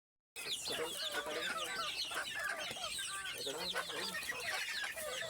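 A flock of desi chickens clucking and chattering continuously, many birds overlapping, fairly faint and steady throughout.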